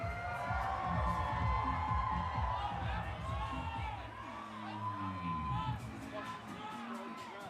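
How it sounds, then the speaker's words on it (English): Lively crowd cheering and whooping for a silver medalist at the X Games Aspen 2026, a sustained mass of voices with scattered shouts, heard at moderate distance and in a busy, open setting. "Make some noise for Cody Matichuk."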